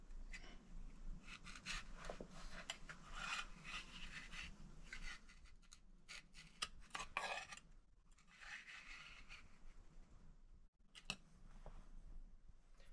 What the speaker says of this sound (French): je prends mon trusquin et j'ai plus qu'à tracer